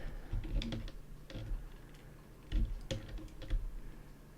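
Keyboard and mouse clicks while working in Cinema 4D, scattered close taps and clicks in small irregular clusters against a quiet room.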